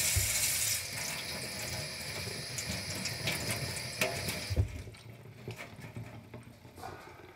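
Tap water runs and splashes over a robot vacuum filter being rinsed in a sink, a steady close hiss of flow that eases after a few seconds into fainter dripping and handling noises.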